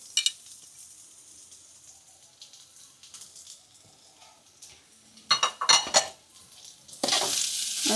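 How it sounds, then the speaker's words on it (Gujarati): A spoon stirs grated carrot and roasted vermicelli frying in ghee in a pan, faint sizzling with soft scraping strokes and a few louder bursts of stirring and pan clatter near the end. "હવે થોડી વાર પાછું આપણે આવી રીતના હલાવવાનું, એટલે ગાજર પણ સરસ બફાઈ જાય"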